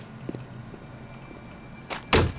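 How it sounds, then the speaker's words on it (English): Game door in Operation Thunderstorm thrown open by a kick, a short, close thud and rattling bang near the end of a quiet stretch, with no one talking. "there was a door noise, but it was from the door, not from the kick"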